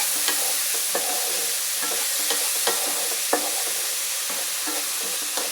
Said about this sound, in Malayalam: ഇട്ടിട്ട് നമുക്ക് നല്ലവണ്ണം ഒന്ന് ഇളക്കാം.